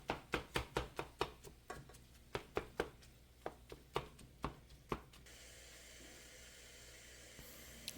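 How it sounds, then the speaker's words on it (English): A mix and chop tool breaks up ground beef in a pan with about fourteen sharp, quiet scraping chops at a steady rhythm. A soft sizzling hiss carries on after the chopping stops. "we'll use our mix and chop to chop that up just a little bit finer and get that incorporated all into the ground beef"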